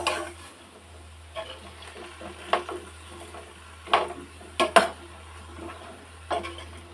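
Colorful vegetables for Filipino pakbet, frying in a pan, are stirred with sparse, quiet scrapes and clinks of a utensil against the pan, each separated by pauses, over a low steady hum.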